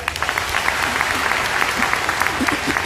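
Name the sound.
audience applause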